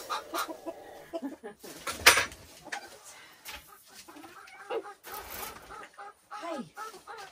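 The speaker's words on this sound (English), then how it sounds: "Now into the covered chicken yard to take care of everybody else." Chickens in a covered chicken yard on a homestead farm, scattered clucks and squawks from several birds coming and going, fairly close, with short bursts of noise in between.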